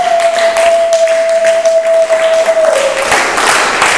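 A church congregation applauding in steady, dense clapping that runs loud throughout, with a sustained electronic tone held beneath it for most of the stretch before the clapping swells near the end.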